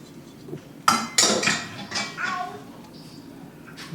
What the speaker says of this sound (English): Give this a stir, put the lid on